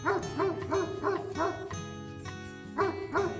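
A lone dog on a French stretch of the Vézelay route to Santiago barks in a steady series of sharp, close woofs, about six in a row, with a brief pause before two more.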